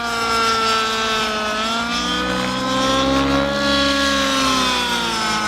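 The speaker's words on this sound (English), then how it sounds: "remember that motors take a while to warm up, so it's worthwhile just getting a little bit of power on it" OS 105HZ R model aircraft engine running and revving, a loud, buzzing, sharply pitched whine that drops and rises again as the throttle changes, with no talk over it.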